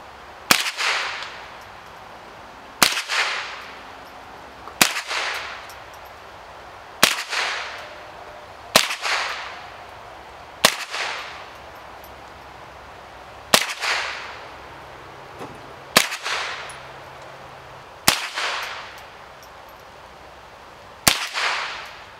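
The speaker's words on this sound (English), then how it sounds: "As fast as you can pull that trigger, rip those rounds right in there." A modern sporting rifle fires at targets on a range, about ten sharp single shots spaced roughly two seconds apart. Each loud crack is followed by a short decaying echo.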